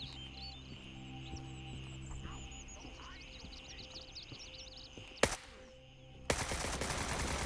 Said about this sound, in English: Took a couple shots and knew it was a terrible angle.